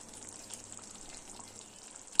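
Mustard oil and slit green chillies sizzle in a hot kadai over hilsa paturi, a soft, steady frying hiss at moderate distance that ends in a sudden short clatter, with no speech.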